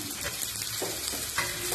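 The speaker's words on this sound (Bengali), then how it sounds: "দিয়ে দিয়ে একটু ভাজা ভাজা করবো" Carrot, beans, yellow and green capsicum and coriander fry in a pan for chicken momo filling, a steady close sizzle with a few spatula stirs scraping through it.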